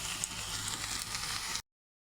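Lentil fritters (dal bora) fry in hot oil, giving a steady, soft, dense hiss and crackle that runs evenly for under two seconds and then stops.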